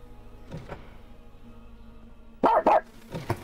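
Robot dog from the video game Atomic Heart gives two or three loud, sharp barks in a quick burst, standing out against quiet game ambience.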